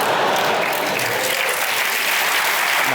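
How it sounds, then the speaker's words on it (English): A comedy show audience breaks into steady, dense applause that holds at full strength from start to finish, with no voices standing out above it. "Nice round of applause for her as well."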